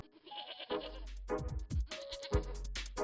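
Miniature pygmy goats bleat several times in short, wavering calls, close and clear, with some low rumbling handling noise between them.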